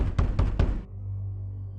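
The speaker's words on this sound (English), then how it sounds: "I hear a loud, frantic knock at the door" Loud, frantic knocking at a door comes as about five rapid, heavy raps close up, then cuts off into a low steady hum.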